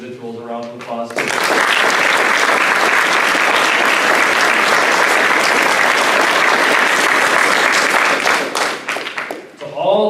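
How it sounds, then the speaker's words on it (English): An audience at an adult learning center graduation ceremony bursts into loud, sustained applause that lasts about seven seconds before tapering off, with a speaker's voice briefly heard before and after the clapping. "How about we give those 13 individuals a round of applause?"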